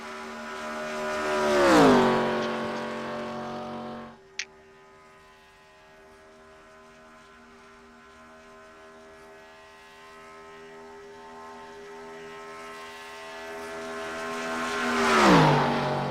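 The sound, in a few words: race car engines in racing video game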